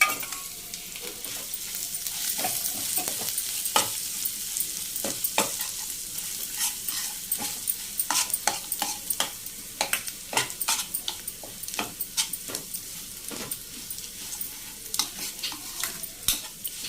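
Home-style tempering in oil with ground stone-mortar chutney of nalleru stalks stirred in, steady close frying and sizzling with repeated scraping and poking clicks from a spoon in the pan, no talking.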